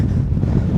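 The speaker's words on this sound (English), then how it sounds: "Jesus, it is windy." Strong wind at a campsite in Doolin, Ireland, buffeting the microphone with a loud, close, low rumbling roar that churns continuously with no voices.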